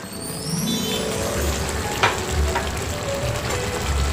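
Potatoes with asafoetida and green chilies sizzling and being stirred in a pan for dum aloo, a steady close frying hiss with occasional scrape and clatter of a spoon.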